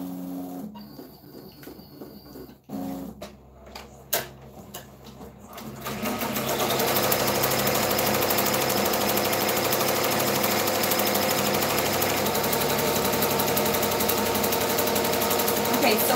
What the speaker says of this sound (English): so while that's embroidering